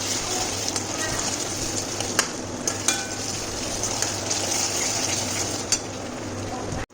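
Chopped onions fry gently in a pan over a low gas flame, a continuous soft sizzle broken by a few light clinks of a utensil against the pan.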